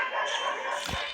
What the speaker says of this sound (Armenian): Աշները ոնց են հաչում։